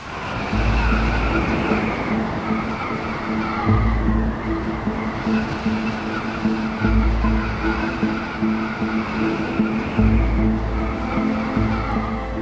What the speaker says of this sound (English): The wind has picked up and is blowing from the back against the high carrying frame.